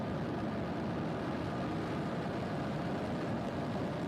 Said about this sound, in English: Liftoff of the Falcon 9 rocket on the commercial GTO-1 flight.